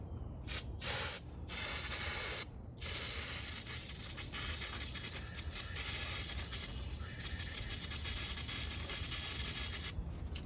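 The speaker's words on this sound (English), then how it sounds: "I'm gonna go ahead and hit this with some carb cleaner and see what comes out of it" Carb cleaner sprayed from an aerosol can onto a BMW N52 engine part: several short hissing bursts, then a longer continuous spray, close and moderately loud with no talking.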